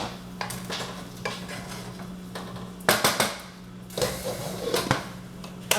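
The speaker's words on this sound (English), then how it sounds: "Just stir up my rice here before it burns up." Rice is stirred in a pot on a stovetop, with repeated scraping and clinking of a utensil against the pot over a faint steady hum and soft sizzle, close and moderately quiet.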